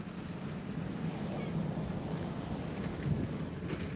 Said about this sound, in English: It's kind of windy and we got a lot of cars going by.